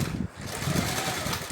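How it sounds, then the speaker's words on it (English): Sewing machine backstitching the seam of a pillowcase, a close, rapid mechanical whirring stitch with a brief pause near the start before running on steadily. "I backstitch again"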